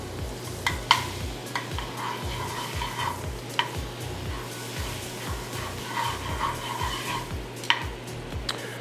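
Butter sizzling in a frying pan over an outdoor fire, a soft continuous crackle with occasional sharper pops and a low rhythmic rumble underneath, fairly quiet and without speech.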